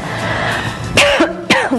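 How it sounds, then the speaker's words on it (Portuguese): Two short, harsh coughs from a person with flu, in quick succession, close and loud, following quiet background noise. "Estou com uma tosse hoje, estou com gripe."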